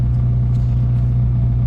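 A K-swapped Honda EG hatchback is driven, its engine a steady low rumble throughout, close and constant without revving, with no voices over it.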